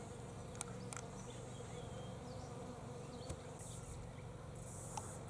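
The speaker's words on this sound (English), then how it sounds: "There's a bee up there in the Osage Orange tree." A bee buzzes up in an Osage orange tree, a faint, steady drone over outdoor background hiss, with a few soft clicks and no voices.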